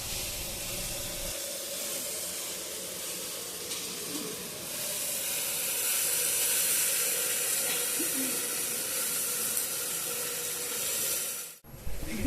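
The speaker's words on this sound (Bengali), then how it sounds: "পেঁয়াজ ভাজা হয়ে গেছে এখন দিয়ে দিচ্ছি রসুন ও আদা পেস্ট" Garlic and ginger paste goes into a pan of fried onions and sets off a steady, fairly loud sizzle and hiss that swells midway and keeps going before cutting off abruptly near the end.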